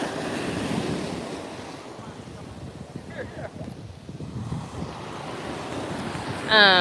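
Ocean waves washing in at a beach, a steady windy surf roar with gusts buffeting the microphone, fairly close and continuous.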